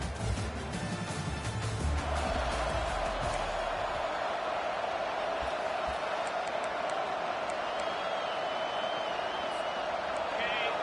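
Crowd roar from a packed Sanford Stadium in Athens, Georgia, home of the Georgia Bulldogs, in a college football video game; a loud, steady wash of cheering continues after a short burst of other noise at the start.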